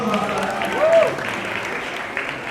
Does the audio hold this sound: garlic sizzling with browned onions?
no